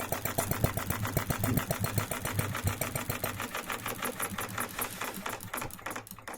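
A small single-cylinder four-stroke petrol model engine runs close up, a rapid even chatter of firing strokes that slows and fades toward the end.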